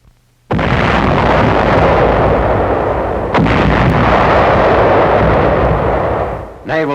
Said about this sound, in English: Naval shelling softens up Jap positions on Aka Island in an early phase of the invasion